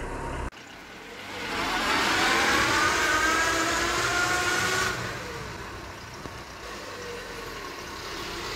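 A Tata Indigo CS car in a scrapyard being driven, its engine and road noise rising into a steady, loud drone with a faint whine, then easing off toward the end.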